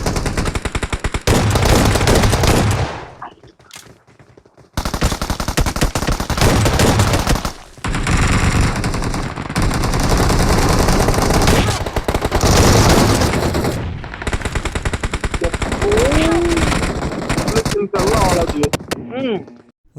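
Bursts of automatic gunfire from a mobile battle royale video game played on Android with high graphics settings, loud and sustained with short gaps between volleys.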